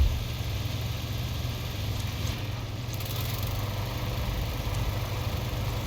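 A small generator runs in a Fallout 4 settlement on Spectacle Island, a steady low idling engine drone that holds evenly throughout with no speech.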